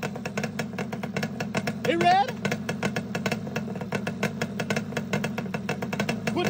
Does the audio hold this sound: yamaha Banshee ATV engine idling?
yes